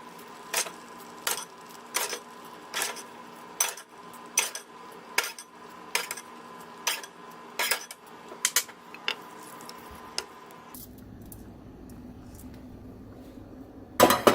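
A metal spoon scrapes and taps against a pot of sticky rice pilaf in a regular rhythm of roughly a dozen sharp strokes, close and clear, then gives way to a quieter stretch with a final clatter.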